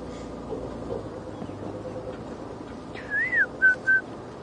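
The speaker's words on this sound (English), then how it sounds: "I can hear a white-browed scrub robin calling." A white-browed scrub robin gives a few clear whistled notes, a rising-falling phrase followed by two short repeated whistles, fairly near over quiet outdoor background during a sunrise safari drive.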